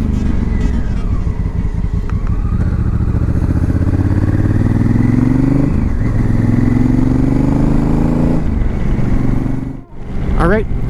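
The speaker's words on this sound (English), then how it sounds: "Just did a little bit of a power wheelie there." A 2018 Honda Africa Twin Adventure Sports motorcycle accelerating hard through the gears, loud close engine roar rising in pitch with shift breaks, and a brief dip near the end.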